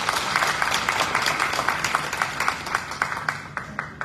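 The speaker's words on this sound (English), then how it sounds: "let's give a round of applause" An audience at a gathering of North Carolina Black elected municipal officials applauds scholarship recipients, with steady clapping from a modest crowd that thins into a few separate claps toward the end.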